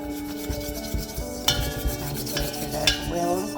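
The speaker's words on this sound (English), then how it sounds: "And then whisk that together." Dry flour and half a teaspoon of salt whisked together in a mixing bowl for a red velvet pound cake, giving steady rubbing, scraping strokes with a couple of sharper clinks against the bowl, close and fairly loud, with no talking.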